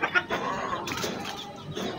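Sebright chickens cluck close by, a few short, uneven clucks over a soft, busy barnyard background.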